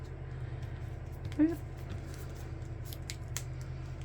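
Scissors snip once through a folded paper journal cover, a single short cut standing out over a steady low room hum, close and fairly quiet.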